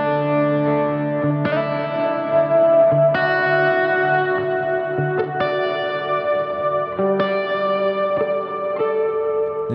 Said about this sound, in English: you can actually go to like cavernous reverb